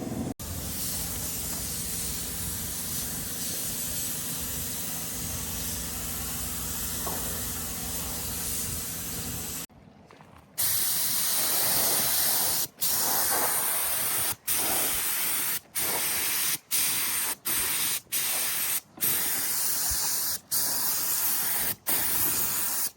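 Sandblasting spray on the undercarriage of an upturned water wagon trailer: a steady, loud broadband hiss runs for about ten seconds, then resumes in bursts broken by short, sharp pauses as the nozzle is cut on and off.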